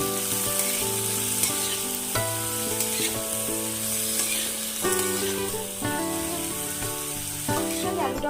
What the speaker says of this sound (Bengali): এটা দিয়ে আমি ভালো করে পেঁয়াজ কলি আলুগুলোকে ভেজে নেব।